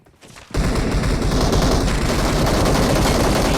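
A dense burst of video game gunfire in a shootout, rapid overlapping shots that start abruptly after a brief quiet moment and keep going loud and close, with no voices.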